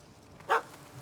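A single short, sharp bark comes from a puppy at a cat up a tree in The Witcher 3, clear and mid-distance over a quiet background.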